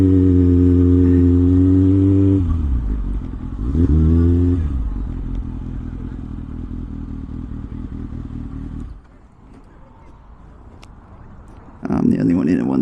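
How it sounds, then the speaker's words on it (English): A group of motorcycles rides together on a Halloween outing, engines droning and revving nearby, with one rising rev midway and a person talking over the steady mechanical rumble. "there's a fair bit of bikes."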